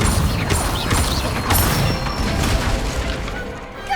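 Incendio fire spell from the Hogwarts Legacy video game, cast amid a busy duel, with bursts of whooshing flame and booming impacts layered over mechanical clatter, loud and continuous.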